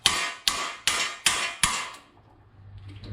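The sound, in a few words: impact screwdriver struck with a hammer to remove Phillips screws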